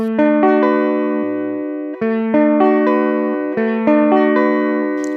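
A guitar strums chords repeatedly in a steady rhythm, bright and close, several strings ringing together with each stroke.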